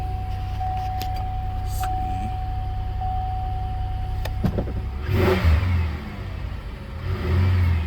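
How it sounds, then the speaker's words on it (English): A 2007 Grand Prix with 125 on the meter idles with a steady low hum at an auto auction, then revs up in two surges, close and loud. "Key in the ignition, obviously. Fire right up."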